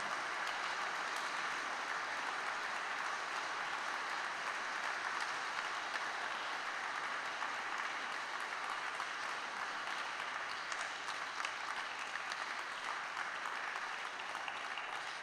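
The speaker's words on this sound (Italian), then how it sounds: "Signori, un caloroso applauso anche per loro di incoraggiamento." Steady audience applause in a cathedral greeting a choir as it takes its place, a sustained, even wash of many hands clapping in a reverberant space, heard from some distance.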